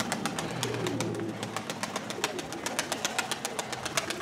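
Village pigeons flutter and coo, a quick repeated patter of wings running steadily throughout, with a low engine idling faintly underneath at the start.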